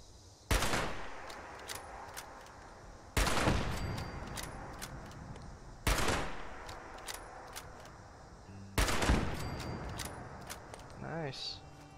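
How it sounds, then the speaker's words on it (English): A machine gun turret fires in Fallout 76. It comes in four loud, rattling bursts roughly every three seconds, each one fading out before the next, with a voice talking over it. "Oh my god, a freaking machine gun thing."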